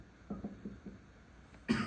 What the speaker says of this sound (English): I apologize about the coughs.